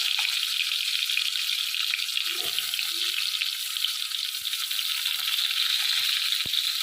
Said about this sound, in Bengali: তেলটা গরম হয়ে গেছে এবারে আমি পটলগুলো ভেজে নেব পটলগুলো দিয়ে দিলাম